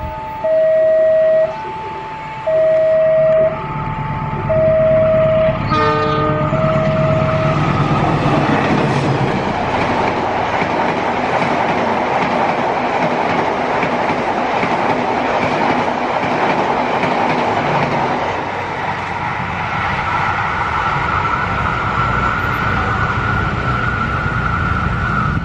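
At a level crossing, a warning bell rings in a steady alternating two-tone pattern, then the Ranggajati passenger train from Cirebon to Jember passes with a loud, sustained roar and rumble of wheels on rails that slowly fades.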